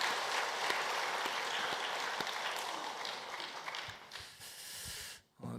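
A church congregation applauds the choir during a Sunday service, a dense sustained roar of clapping that fills most of the clip before breaking off and briefly resuming near the end.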